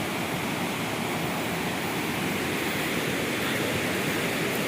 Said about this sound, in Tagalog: Yan natin yung bulak ng tubig oh.